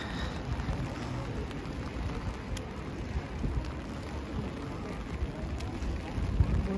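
Steady rain falls on a cold day in Cologne near the cathedral and Christmas market, a continuous broadband wash with occasional nearby drops, an umbrella overhead and faint city ambience underneath.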